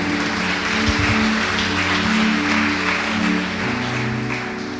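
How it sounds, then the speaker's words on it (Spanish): A church congregation applauds steadily for several seconds, broad continuous clapping filling the room, with a low sustained organ or keyboard tone underneath. "Denle un aplauso a la palabra del Señor."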